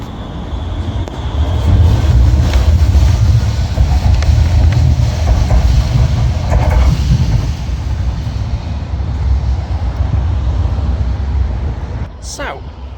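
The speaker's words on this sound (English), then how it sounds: "Right, let's get on the tram." Steady low rumble of a Manchester Metrolink tram in motion, loud and continuous throughout, with a brief high squeal near the end as wheels grind on the rails.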